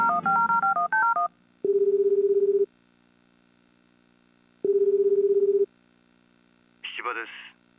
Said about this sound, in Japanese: 柴くんに電話しよう。